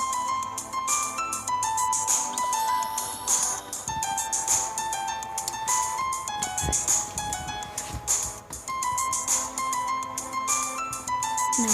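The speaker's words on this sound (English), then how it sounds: "The super ringtone." Phone ringtone playing a bright, repetitive electronic melody loudly and continuously for several seconds, with no voices over it.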